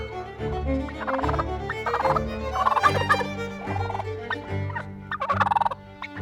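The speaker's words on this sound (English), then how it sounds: "The male turkeys, adorned with fan-like tail feathers and vibrant colors, engage in a complex mating ritual known as strutting." Several male wild turkeys in the Great Smoky Mountains gobble during a strutting mating display, their loud rattling calls overlapping in repeated bursts over a continuous low drone, with no voices present.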